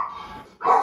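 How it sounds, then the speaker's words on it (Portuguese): A house dog barks nearby, a short muffled sound followed by one loud, sharp bark. "meu cachorro não para de latir"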